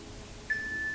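A single electronic timer beep sounds partway through a quiet workout pause, a steady thin tone that holds to the end.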